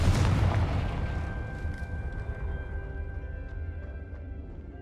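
A Confringo spell blast in Hogwarts Legacy, one loud booming explosion at the start that rolls off into a slowly fading rumble with a faint lingering ring.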